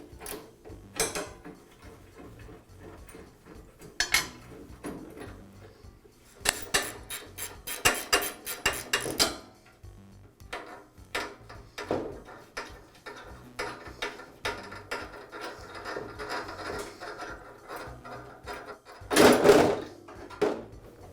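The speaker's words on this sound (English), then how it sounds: "I'll begin by removing the guide rod. The rod is secured with a bolt and a bracket on either end." Bolts and a bracket being removed from the guide rod of an MK Diamond tile saw, heard as scattered close metallic clicks, ratcheting and clinks. Busier clusters of tool and metal handling come midway and near the end, with no talk.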